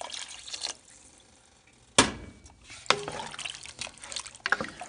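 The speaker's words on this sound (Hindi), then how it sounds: "I want add 1 glass more water." Water from a glass poured into a cooking pot of potatoes and meat for aloo gosht, a few splashing and trickling bursts up close, no talk.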